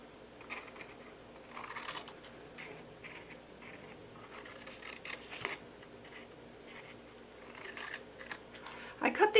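Scissors cut through cardstock for a treat box, quiet crisp snipping in short repeated clusters, close up with soft handling noises between cuts.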